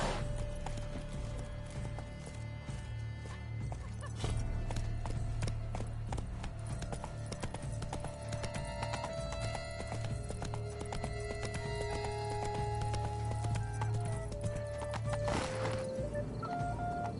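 Horse hooves clip-clop steadily in The Witcher III, a constant rhythmic trot carried under game music and ambient tones, with occasional soft whinnies and no speech.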